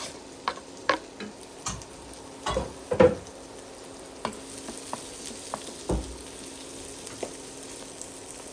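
Liver and gizzards frying in a pan: a continuous sizzle punctuated by sharp, irregular pops and crackles, heard close with no talking.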